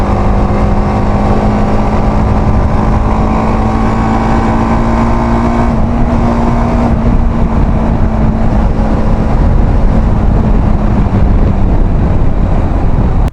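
A TVS Apache RTX300 motorcycle pulls away from sixth gear. A steady, loud engine drone rises slowly in pitch under heavy wind rush, close to the microphone throughout.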